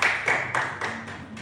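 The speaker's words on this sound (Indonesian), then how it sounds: "kita beri tepuk tangan untuk Irwan." A classroom claps for a student in a short, even rhythm of about six claps, moderately close and fairly quiet, with no talking over it.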